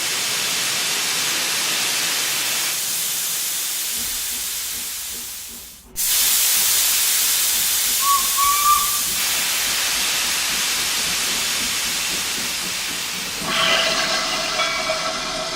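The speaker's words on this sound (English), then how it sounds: "It's the steam train." Vintage steam train on the Llangollen railway lets off a loud, steady hiss of steam that cuts out briefly, then resumes, with a faint short whistle-like tone and rumbling movement later.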